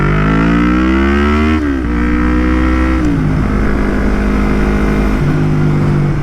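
Yamaha MT-03 with a full Akrapovic exhaust, loud and close, revving up through the gears, then dropping pitch in stepped downshifts with crackling burble between.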